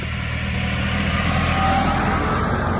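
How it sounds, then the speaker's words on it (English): Steady rumble of road traffic with cars passing close by on a rural road in the Lot region near the Dordogne, a continuous engine and tyre drone with no talking. "There's the rush hour traffic."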